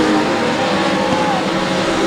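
Legend Cars racing in a heat let out a loud, continuous engine roar as they sweep past close by, the tone shifting slightly as they go.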